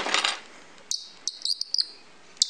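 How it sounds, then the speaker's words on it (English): A LEGO bird call toy gives a string of short, sharp, high squeaking chirps in uneven bursts after an opening rush of rustling noise, close and fairly clear. "It's made to sound like a bird."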